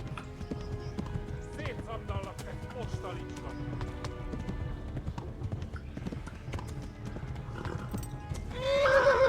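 Galloping hooves clip-clop steadily through a scene in the medieval game Kingdom Come: Deliverance, with a horse neighing, while someone talks over the action and a louder burst rises at the end.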